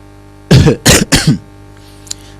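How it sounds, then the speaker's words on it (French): Three quick, loud coughs in a row, close to the microphone, followed by near silence. "Vous avez vu, j'ai toussé un peu"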